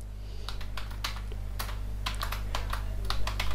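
Fast, uneven typing on a computer keyboard, crisp close key clicks in irregular bursts over a steady low electrical hum, with no voices.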